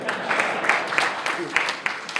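A few people in an audience clap, producing sparse, separate hand claps in an uneven rhythm, close and fairly loud rather than a full round of applause.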